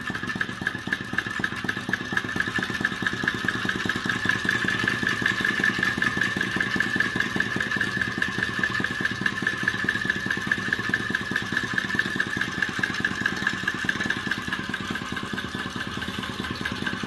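A small gas-heated two-cylinder flame-eater engine runs steadily with a fast, even chugging beat, loud and close, holding the same pace from start to finish.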